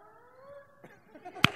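A voice imitates an old creaky door slowly opening during a live improv comedy show. It is a drawn-out, wavering tone that turns rough and breaks off with a short sharp burst at the end.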